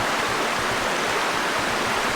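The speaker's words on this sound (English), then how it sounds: "There's two streams that come together over here." Clear streams run near abandoned coal mines, their water rushing in a steady, broadband wash that stays dense and even throughout with no voices.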